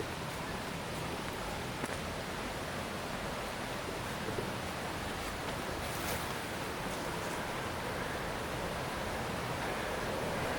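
Water pours over a river dam fitted with log flow-control booms, a constant broadband rush that holds at an even level throughout, heard from a short distance and with no voices.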